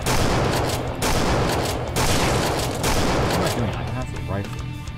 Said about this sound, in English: Quite a lot of shots with the pistol, so yeah.